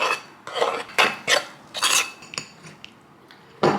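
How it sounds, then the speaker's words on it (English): Spoon scraping and clinking against a bowl while mixing protein powder into oats, a series of uneven rhythmic strokes, close and moderately loud, no talking. "We're gonna add in a scoop of protein. Mix it well."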